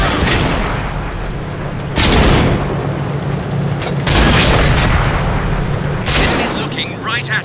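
Tank cannon shots in World of Tanks boom out about four times at roughly two-second intervals, each a loud, sharp blast with a rumbling tail, while voices speak between them.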